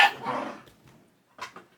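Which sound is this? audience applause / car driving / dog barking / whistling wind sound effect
dog barking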